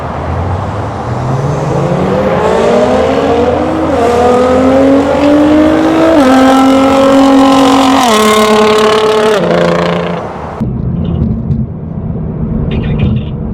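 A Nissan GT-R R35 fitted with an Fi exhaust accelerates hard up a highway on-ramp, its loud engine note climbing through the gears with brief shift dips, then cutting off abruptly to quieter road noise.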